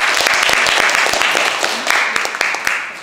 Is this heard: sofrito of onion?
no